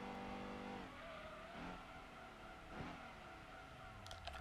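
A race car in the Gran Turismo 2 video game brakes hard, the engine note dropping amid skidding tire squeal, heard faint and steady throughout.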